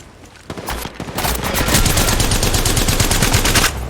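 Rapid gunfire in the mobile battle royale game Apex Legends Mobile, played on a Poco X3 Pro: dense, loud bursts of automatic shots that start sparse and build into a sustained volley lasting several seconds.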